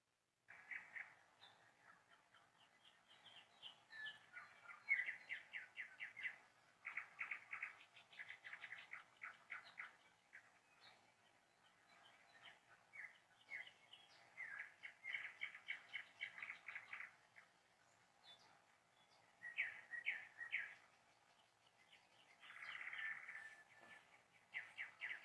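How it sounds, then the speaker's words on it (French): Small birds chirp and sing in repeated bursts of quick trills and tweets, fairly faint and distant, with quiet pauses between phrases and no talking. "En entendant ces oiseaux, alors que tu as les yeux fermés"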